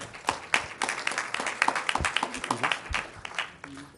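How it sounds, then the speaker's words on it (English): Audience applause at a city candidate forum, a dense burst of many hands clapping that swells and then holds steady for several seconds, close and fairly loud, with no talk over it. "let's give a big round of applause for Mr. Grassford Smith."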